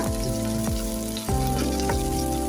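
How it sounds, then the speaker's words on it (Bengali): Green chilli, garlic and ginger paste fries in a pan for a koi fish curry, a loud steady sizzle with a persistent low hum and repeated tonal sweeps in the background. "মশলাটাকে নেড়ে ছেড়ে কিছুক্ষণ কষিয়ে নেব"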